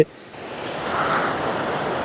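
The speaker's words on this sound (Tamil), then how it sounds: "தண்ணி ஃபோர்ஸாக வருதுன்னு பார்க்கறதுக்கு செம ஃபீலாக இருக்குங்க" Water rushing forcefully through a large dam at Needamangalam, a broad, steady roar of churning flow that rises slightly and holds, with no voices over it.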